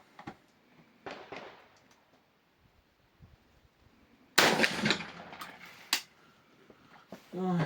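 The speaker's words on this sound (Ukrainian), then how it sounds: "Стріляємо через хронограф та перевіряємо швидкість." A single sharp, loud rifle shot fired through a chronograph at a target 50 metres away cracks out of a quiet outdoor background, followed by a couple of smaller impulsive knocks and a brief rustle.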